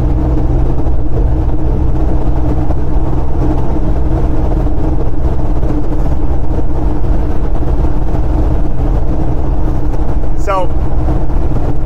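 A VW T3 van's TDI diesel engine labours at full throttle in fifth gear, a steady low droning rumble filling the clip beneath a voice.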